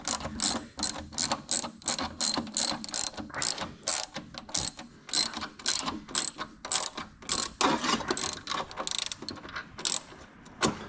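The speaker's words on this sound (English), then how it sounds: "Let's go ahead and tighten this bad boy down." Ratchet wrench clicking in rapid, steady bursts while tightening a bolt on the three-point linkage of a John Deere 4020 tractor, loud and close with brief pauses between strokes and no talking.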